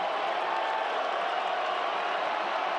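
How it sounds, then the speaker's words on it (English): Stadium crowd at a college football game, South Florida Bulls against Memphis Tigers, as a steady, distant roar of cheering and murmur that holds evenly throughout, with no clear peaks or individual voices. "Crowd's getting into it a little bit."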